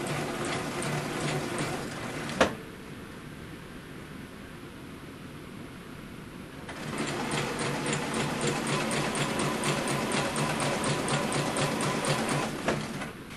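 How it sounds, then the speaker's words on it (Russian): Sewing machine stitching a seam on a rayon wrap skirt, running steadily with a quick pause, then resuming its even, rapid stitching rhythm up close and alone. "и уже начинаю шить"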